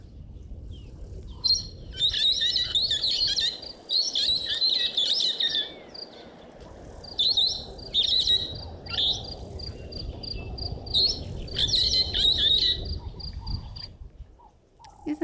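Birds call in short bursts of bright, high chirps in the wild, several rapid phrases repeating with gaps against a soft steady background of insects and rustle.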